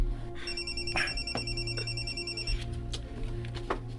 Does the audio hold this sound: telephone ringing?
yes